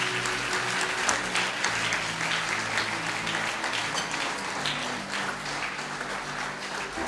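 A church congregation breaks into sustained applause, a dense, steady roar of clapping hands that fills the room at even loudness from start to finish.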